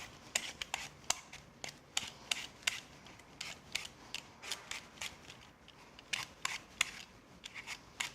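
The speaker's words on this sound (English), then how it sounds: "just use a sharp little knife and freehand peel them." A sharp little paring knife freehand-peels apples for chutney, giving a run of quick, crisp scraping strokes in an uneven rhythm, close and fairly faint against a quiet kitchen background with no talk.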